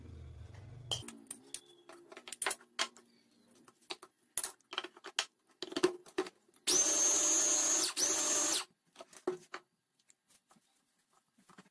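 A Mito electric food chopper whirs in two loud bursts, the first about a second long and the second slightly shorter, while blending bananas with sugar, amid kitchen clatter and light clinks.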